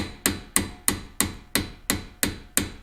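Eight evenly spaced, sharp metal hammer taps drive a brake caliper pin into place on a C7 Corvette brake job, close and clear with no talking.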